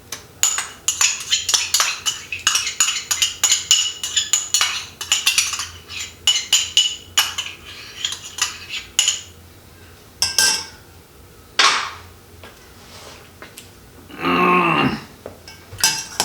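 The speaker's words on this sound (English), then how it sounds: "So, give it a real good stir, make sure all your tofu is totally covered." Tofu stirred in BBQ marinade, with a fast run of metal utensil clinks and scrapes against a bowl, then a few sparser knocks and a short throaty noise, close by.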